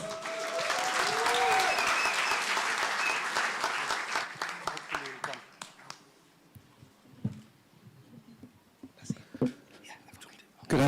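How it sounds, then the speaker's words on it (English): An audience at a celebration for Pheroze Nowrojee gives loud applause as Eric Wainaina is welcomed to the stage. The clapping swells for several seconds, then thins to scattered claps, rustling and quiet murmurs. "I'd like to invite up to the stage a big warm round of applause for Eric Wainaina"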